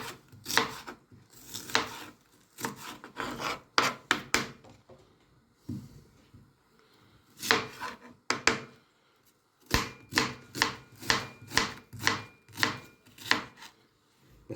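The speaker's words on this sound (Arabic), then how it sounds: "البصل اهو. لا، عايز تعملوا حلقات تعملوا بأي طريقة" Onion being sliced into rings on a cutting board in a home kitchen, a steady run of sharp, close knife chops in quick rhythmic bursts with brief pauses between groups.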